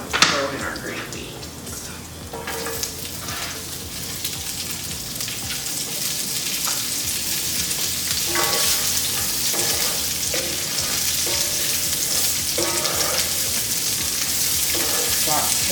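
Green beans sauté in hot oil in a pan, with a continuous bright sizzle and occasional stirring clatter; a voice speaks briefly over the cooking.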